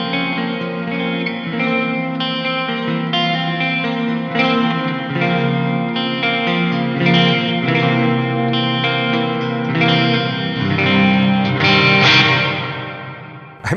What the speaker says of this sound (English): Let's turn this reverb on.